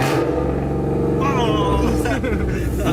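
A car on drag radials launches off the line as the clutch drops, the engine roaring loud and close with a rising rev and a short gear change, while people talk over it.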